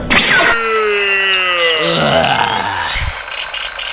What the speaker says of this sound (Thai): ท่านผู้ชมไม่อยากได้ยินเสียงนาฬิกาปลุกในวันจันทร์